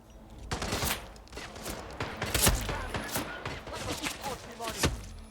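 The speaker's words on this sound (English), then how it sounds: "He's shooting at us." Gunfire in the video game Hitman 2, a rapid series of sharp shots in bursts, close and fairly loud, with voices talking over the shooting.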